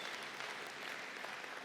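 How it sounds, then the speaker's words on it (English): An audience at the FMG Young Farmer of the Year awards night applauds the contest entrants, with a continuous, even wash of many hands clapping throughout, moderately distant and without a break. "what a round of applause for everybody who entered this contest"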